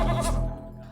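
A sheep gives one short, loud, wavering bleat that fades quickly within a second, heard alone and close.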